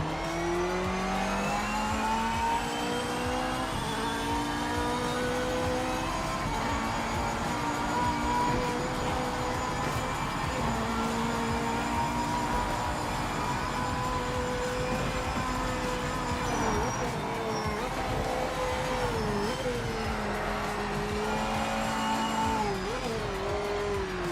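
A Honda NSX race car in the Project Motor Racing video game drives in a long, continuous engine drone that climbs and falls through gear changes, with its pitch wavering as it takes corners and no voices present.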